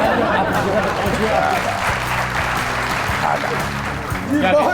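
A studio audience applauds for comedian Goga Hoshiarpuri, steady clapping under low murmuring voices and a bit of talk, with music-like tones at moments.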